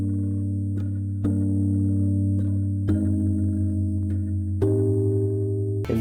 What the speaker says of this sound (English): Find a preset, and it should sound something like this.